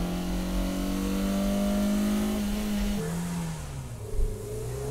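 Sport compact race cars, among them a Renault Twingo, accelerate hard from a standing start, a steady droning engine note that climbs and then drops at a gear change, heard at a moderate distance.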